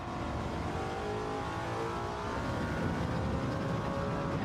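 Front-wheel-drive Hyundai Elantra in Gran Turismo 7, its engine droning steadily at moderate volume under a constant wash of tyre and road noise, alone without talk.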